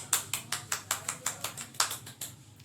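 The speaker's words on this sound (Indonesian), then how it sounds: "Ya, beri tepuk tangan untuk kelompok 5." Around ten separate, evenly spaced hand claps from a small classroom group applauding a student team, crisp and fairly close with a sparse, slightly uneven rhythm, no talk over them.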